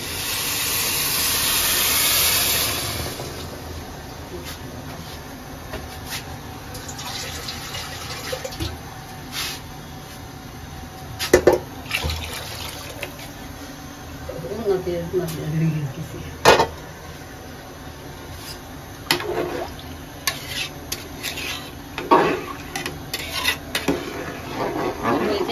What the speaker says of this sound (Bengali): আর এখন আমি পানিটা ঢেলে দেবো, পানিটা গরম করে রেখে দিয়েছি।